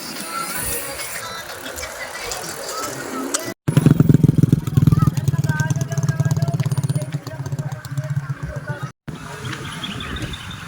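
A motorbike passes close on a jogging route, its engine rising into a loud steady drone for several seconds before fading, with people talking over it.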